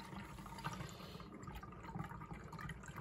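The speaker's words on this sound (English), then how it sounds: "And then all you have to do is top your bottle up with water." Water runs steadily into a plastic spray bottle as it is topped up for a homemade tea tree surface spray, a soft continuous trickle heard up close with no talking.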